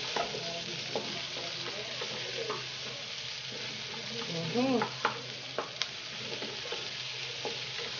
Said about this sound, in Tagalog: Lagyan natin itong sibuyas.